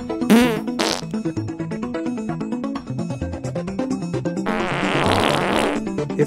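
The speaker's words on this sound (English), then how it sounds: "Tired of holding in your farts?" Comic fart noises from an advert, a few short loud blasts opening the sound and a long buzzing rasp toward the end, over a steady music bed.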